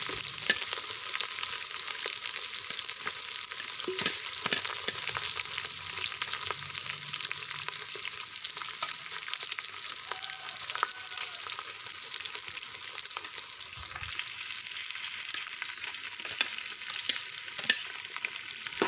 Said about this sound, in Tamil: வெங்காயம் பச்சை மிளகாய் ரெண்டையும் ஒரு அஞ்சு நிமிஷத்துக்கு நல்லா வதக்கி விட்டுக்கலாம்